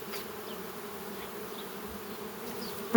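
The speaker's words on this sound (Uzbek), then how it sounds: "12-iyun holatiga asalarilarimiz ishlashyapti" Honey bees buzz around their hives at an apiary in June, a steady, faint, continuous hum that stays even throughout, with a brief click at the very end.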